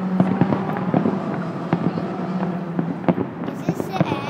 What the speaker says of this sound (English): This is where they send off all the fireworks.